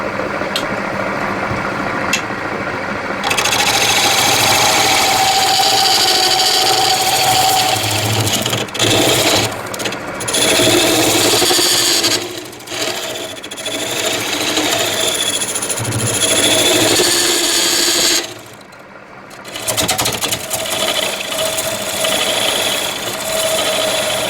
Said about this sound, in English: I'm going to use the carbide tool.